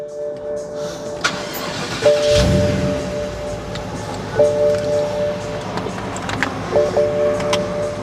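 A turbocharged 700 hp BMW X5 SUV engine cranks and catches around two seconds in, then settles into a steady idle with a faint chime sounding intermittently.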